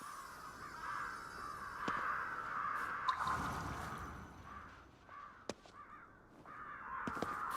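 Crows caw repeatedly in the video game Ghostwire: Tokyo, sharp calls rising at intervals over a steady ambient game drone, with no voices.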